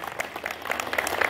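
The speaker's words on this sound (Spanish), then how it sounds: "Aplauso, por favor" Applause from an audience at a speech by local authorities at a Latino festival event in Cajamarca, a dense steady patter of clapping that swells slightly toward the end, with a little crowd noise mixed in.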